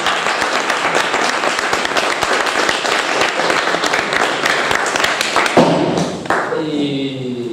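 Audience applause for two readers at an Italian talk on a First World War front-line diary: dense, sustained clapping with sharp individual hand strikes, fading out near the end as a low tonal hum and a voice emerge.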